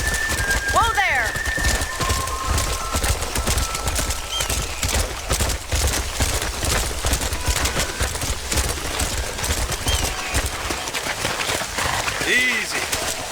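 Heavy rain in the video game Red Dead Redemption Remastered, a dense constant hiss filling the whole stretch, with horses and brief voices heard through the downpour.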